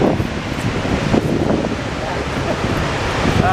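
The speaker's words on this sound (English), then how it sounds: "I'm going to get a little closer to the waterfall." Waterfall in Norway, heard up close as a steady, loud broadband rush of falling water that fills the whole clip without letting up.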